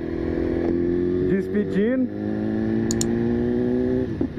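A BMW S1000RR motorcycle engine runs close by at a steady, even idle with a continuous droning hum, while someone talks briefly over it.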